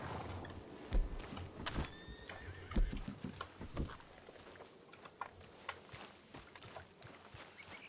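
Horse whinnying and hooves clip-clopping in the western video game RedM: a couple of brief neighs early on and scattered hoof thuds, faint and moderately distant, with no talk.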